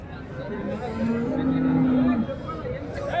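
At a cattle market in Chintamani, Karnataka, a buffalo lets out one long, low moo over a steady crowd hubbub with nearby chatter.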